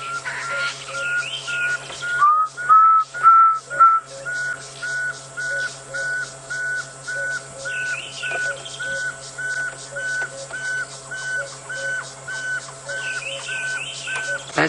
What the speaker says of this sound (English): Let me play that pearl-spotted owl for you quickly